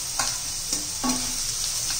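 Onion sautéing in a pan for a tawa egg masala fry, a steady soft sizzle with a few stirring scrapes and spatula taps, close and moderately loud with no talking.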